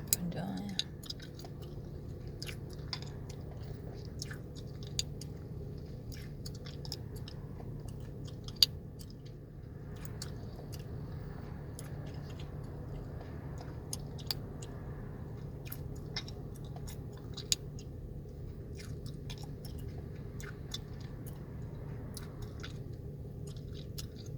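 Gum is chewed in a car stuck in traffic, with faint, steady, moist smacking and clicking close to the mouth over a low, constant road and engine hum.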